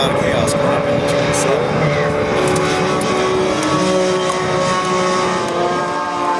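US Touring Car Championship cars race through a crowded first lap at Sonoma Raceway, engines roaring and revving in a dense, continuous pack under a commentator's voice.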